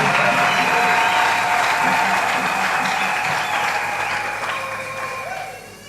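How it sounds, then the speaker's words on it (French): Sustained applause from a church congregation during a sermon, a dense steady wash of many hands clapping that tapers off toward the end. "Applaudissons pour cela."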